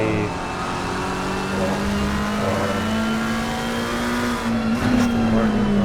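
Race cars, an Aston Martin or McLaren and a BMW, roar loudly at close range with a sustained engine drone that slowly climbs in pitch, accompanied by a brief tire squeal near the end.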